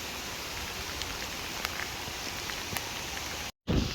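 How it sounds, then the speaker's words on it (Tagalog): Steady rain, growing heavier, patters all around with occasional louder drops, ending in a brief dropout and a rougher burst of noise. "medyo lumalakas yung ulan"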